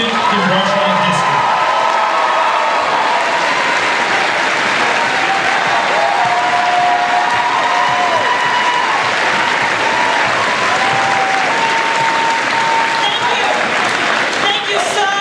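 A crowd at Scarborough High School greets Democratic candidate State Senator Emily Cain with loud, sustained applause. Whoops and cheers rise over the clapping, which stays steady for about fifteen seconds.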